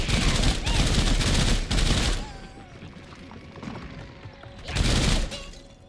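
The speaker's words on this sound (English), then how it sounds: "Machine gun of hell." Rapid machine-gun fire in the video game SULFUR, two loud sustained bursts at the start and a third near the end, separated by a quieter stretch.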